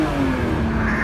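A 1997 Mercedes-Benz SL320 R129 roadster's six-cylinder engine pulls steadily under acceleration from inside the car, its drone slowly climbing in pitch and holding at a constant, fairly loud level.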